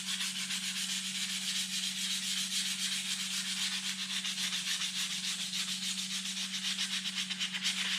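A wooden fishing lure blank is sanded by hand in steady, rapid back-and-forth strokes, producing a continuous close rasping hiss over a faint low hum, with no talking.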